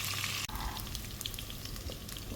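Ingredients for vathal kuzhambu, including dried vathal, sautéing in a pan in Kuwait, giving a steady close crackle and hiss of frying with a soft thump near the start.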